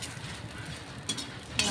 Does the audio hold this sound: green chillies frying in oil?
yes